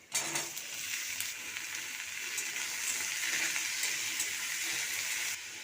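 Cut potato and eggplant frying with onions in oil in a pan, a steady hissing sizzle that stays close and even, with a few soft stirring knocks near the start.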